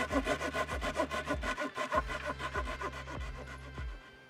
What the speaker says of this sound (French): je coupe le poteau là à la moitié